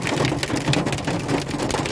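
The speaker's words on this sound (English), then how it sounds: "hailstorm. Decided to hit us along with a lot of rain." Heavy rain mixed with hail drumming on a stopped vehicle, a dense continuous patter of close impacts with no talking.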